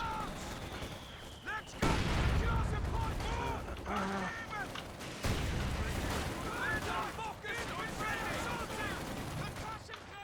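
Mortar fire and explosions in the World War II strategy video game Company of Heroes 2 during a 1v1 online match: repeated booming blasts and gunfire crackle with chirping battlefield effects, while a player talks over the action.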